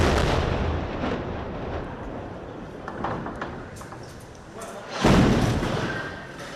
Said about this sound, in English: That's video of airstrikes landing near a hotel inside Gaza City